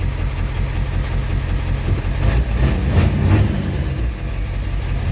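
A Ford 7.3L Super Duty truck engine runs loud and close with a deep, steady rumble that swells slightly midway as the truck pulls out of a driveway after sitting almost a year.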